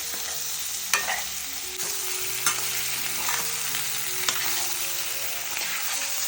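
Baby potatoes sizzle steadily in a hot pan for a podi roast, with a constant frying hiss and a few scraping stirs of a spoon against the metal. No voices.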